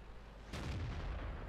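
A tank cannon fires in the video game World of Tanks: a single sudden, heavy boom hits at about half a second, then rumbles on with a low, sustained tail over quiet background noise.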